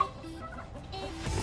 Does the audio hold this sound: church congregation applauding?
no